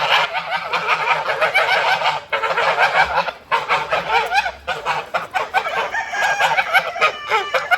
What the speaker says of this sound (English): You geese need to move out of the way. Honking and blasting.